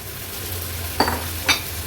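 Steady sizzling in a hot pan with two quick clattering bursts as bottle gourd pieces are tipped in, no voices.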